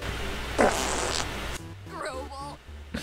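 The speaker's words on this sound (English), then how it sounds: "and then of course, the fart." A video game character lets out a loud, buzzy fart lasting about a second, followed by other game sounds and chiming effects, with a voice talking underneath.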